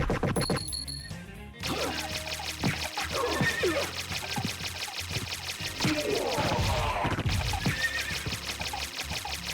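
Half-horse enemy in the video game Castlevania: Symphony of the Night giving shrill, wavering neighs twice, each rising and falling, over a dense bed of game music and effects.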